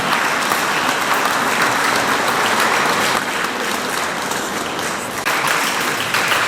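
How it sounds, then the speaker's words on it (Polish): Steady, loud applause from a crowd, continuous clapping that barely changes in intensity throughout. "brawa są wskazane"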